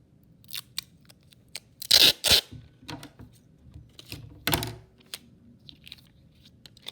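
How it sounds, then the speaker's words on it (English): Scissors snip through a strip of clear packing tape during a craft tape-transfer project, two close crisp cuts near the middle followed by a third a little later, with soft rustling and handling noise between them. "I'm going to need to cut another piece of tape here"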